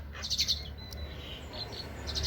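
A Javan pied starling (jalak kebo) gives a few faint, high chirping calls in quick bursts against a low background hum, with no voices.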